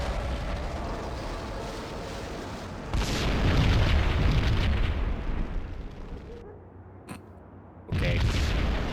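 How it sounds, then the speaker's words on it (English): A bomb blast inside a slum building in the 2001 PC game Max Payne: a loud rumbling boom that swells and lingers, cuts out briefly, then roars back, with faint speech underneath. "Another bomb exploded inside the closest slum building."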